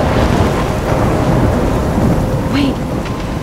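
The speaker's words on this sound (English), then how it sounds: "I'm trapped in a storm?" Steady heavy rain and rumbling thunder fill a stormy scene in the game Life Is Strange, a constant dense roar with a brief brighter crack near the end.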